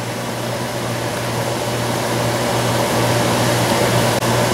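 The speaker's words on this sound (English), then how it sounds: "See, now I got my robo stir involved." A robo stir automatic pot stirrer runs over a pot of slow-cooking burgundy beef with wine and mushrooms, giving a steady, close mechanical whir and hum that holds unchanged for several seconds with no voices.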